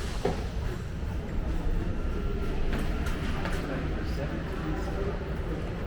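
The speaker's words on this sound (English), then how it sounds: "And today we'll be taking the metro." A Paris metro train ride: a steady, continuous rumble of the carriage in motion with faint rattles and clicks, and people talking over it.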